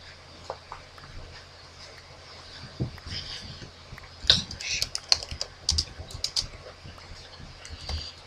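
Computer keyboard typing, clusters of light clicking keystrokes in irregular bursts, close and moderately loud, with faint background noise.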